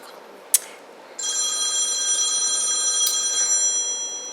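A telephone bell rings steadily and fairly loud in a room where nails are being done, starting after a short sharp click and continuing for a few seconds without talk.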